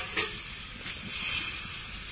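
Water splashes into hot oil and spice masala for paneer, giving a steady broad hiss of steam and sizzle that swells briefly near the start and then holds, with no voices.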